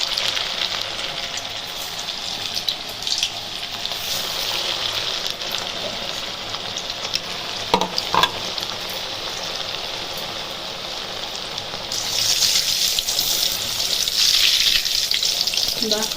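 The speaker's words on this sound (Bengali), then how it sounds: "তেল গরম হয়ে গেছে, কাটলেটগুলোকে ভেজে নিচ্ছে মা।" Bread cutlets fry in hot oil, giving a continuous dense sizzle and crackle that swells louder near the end, with faint background noise and no talk.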